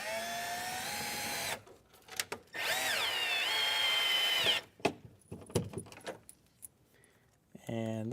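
A power drill drives screws to fasten a bracket into wood inside an E-150 van build, with sustained whirring bursts broken by short pauses and a brief final burst, close and fairly loud.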